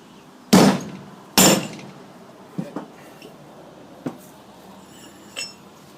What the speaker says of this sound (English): you want to hear metal on metal when you hit it